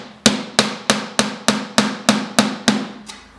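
Nine sharp, evenly spaced hammer blows drive nails right through wood set in thickened epoxy during a boat build, each strike loud and close with a short ringing decay.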